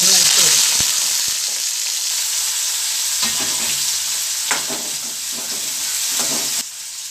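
Ginger, garlic and shallots fry in hot coconut oil for a vatta fish curry, giving a steady, close sizzle with a few faint clinks of stirring and no talk.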